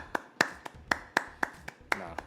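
Sharp hand claps, about nine in an uneven rhythm, close and fairly loud, with a brief vocal sound near the end.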